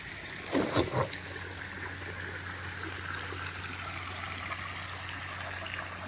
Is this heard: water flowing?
yes